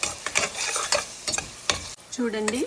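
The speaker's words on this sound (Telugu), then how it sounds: "ఉల్లిపాయ ముక్కలు బ్రౌన్ కలర్ వచ్చే వరకు వేపేసాను" Onions with ginger garlic paste, turmeric and salt fry in a pan, with repeated scraping stirs over a low sizzle; near the end a short tonal squeak from the pan is heard.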